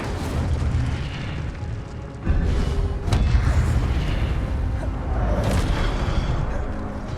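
Fire spell cast in the video game Hogwarts Legacy, a series of deep booming bursts over a rumbling bed, with sharper blasts around the middle and later on, fairly loud and without talk.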